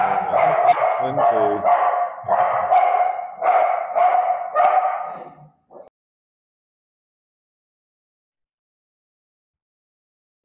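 A dog barks repeatedly and loudly nearby, a quick run of sharp barks with some yips and howl-like notes for several seconds before falling silent.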